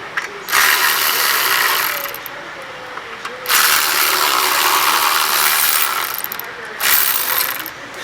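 A ratchet with a deep well socket works on the rear brakes of a 5th-generation Toyota 4Runner, giving three close, loud bursts of rapid clicking separated by short pauses, with no talking.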